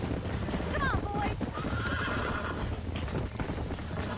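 Horse in the video game Red Dead Redemption being broken on a road, a clear whinny early on followed by hoof clip-clops and thuds, with someone talking over the sounds.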